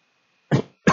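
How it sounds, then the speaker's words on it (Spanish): A person coughs twice in quick succession, with close, sharp bursts separated by a short silence and no talk. "¿Tienes tos?"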